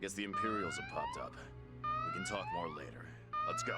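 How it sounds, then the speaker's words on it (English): A base alarm in the video game Valkyria Chronicles 4 wails in repeated rising and falling sweeps, about three cycles, with in-game character dialogue running over it. "That's the alarm."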